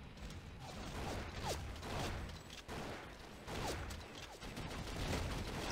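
Gunfire in the 2D shooter game Soldat, rapid mechanical bursts of rattling shots with clicking and whistling streaks, faint and repeating in waves, with no talk over it.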